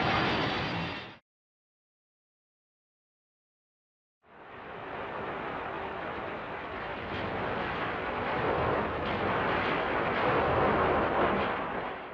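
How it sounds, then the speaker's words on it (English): Explosion sound effect from the 1954 Japanese film Gojira: a brief burst cuts off into silence, then a loud, broad, sustained roaring rumble swells and holds for several seconds. "Gojira just has an explosion"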